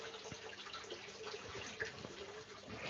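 Running water from a waterfall feature in a home aquarium setup gives a steady, soft, continuous trickling rush at low volume, with no voices over it.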